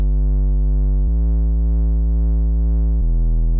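A synthesizer bass run through tube distortion holds thick, buzzing sustained notes rich in harmonics, shifting pitch twice in a brief loud phrase with nothing else playing.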